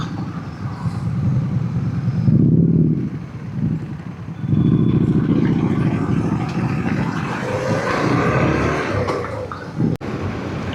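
An adventure motorcycle rides along a wet, muddy road in Rajasthan, its engine droning loudly with swelling surges and tire hiss, and a sharp knock near the end.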